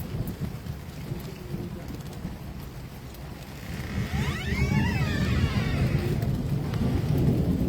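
Steady rain patters amid low rumbling thunder that swells louder later; a sweeping siren-like tone rises and falls in the distance.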